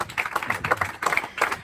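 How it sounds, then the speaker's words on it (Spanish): Church congregation applauding during a youth service, a short burst of scattered hand claps in uneven rhythm, fairly quiet with a brief pause before clapping resumes. "Denle ese aplauso al Señor"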